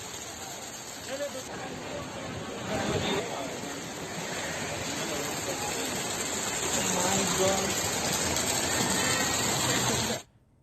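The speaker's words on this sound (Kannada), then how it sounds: "ಹಲವೆಡೆ ಧಾರಾಕಾರವಾಗಿ ಮಳೆ ಸುರಿದಿರುವಂಥದ್ದು" Dense, steady heavy rain hisses across the whole stretch during a downpour in Bengaluru, with a murky layer of voices or crowd noise underneath, then it cuts off abruptly at the end.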